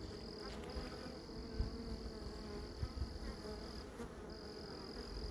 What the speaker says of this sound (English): We've installed a package of bees.